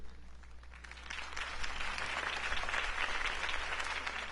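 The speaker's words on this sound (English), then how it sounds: "could have heard that applause" Crowd applause in Batman: The Telltale Series, following a campaign speech, rising from a scattered start into steady, dense clapping that holds through to the end, with no talking over it.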